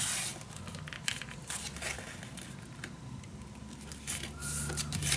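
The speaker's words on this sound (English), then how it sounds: "I think first I'm just going to fold this in two, and then I'm just going to cut it down." Paper being folded and torn by hand while crafting notebook sewing pages, with soft crinkling and short tearing rustles coming close and quiet in uneven bursts.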